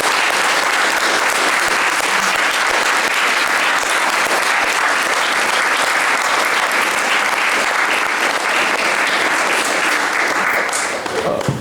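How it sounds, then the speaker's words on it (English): Loud, sustained applause from a university debate-society audience, a thick wall of clapping holding at full strength for over ten seconds before easing slightly at the very end. "Can we have a big round of applause for Tasnime Begum?"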